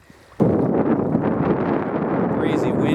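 Strong wind gusts across a lake during a solo canoe trip, buffeting the microphone with a loud, continuous rumble that starts abruptly and persists.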